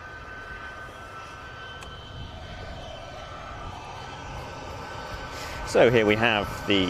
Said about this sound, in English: Emirati C-17 taxiing past us.